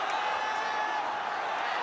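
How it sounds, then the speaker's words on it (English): An MMA arena crowd watching Aung La N Sang fight Ken Hasegawa keeps up a continuous wash of cheering and clapping, a steady, fairly distant roar. "This crowd is crazy."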